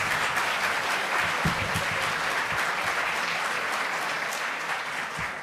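A lecture audience at the LSE breaks into sustained applause, a dense even clatter of many hands clapping that tapers slightly toward the end.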